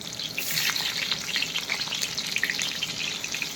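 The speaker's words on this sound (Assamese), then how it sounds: "জলকীয়া আগতে ফ্ৰাই কৰি লওঁ" Green chillies fry in hot oil with five-spice seeds, a dense crackling sizzle with bright popping bursts that stays close and loud throughout, no voices.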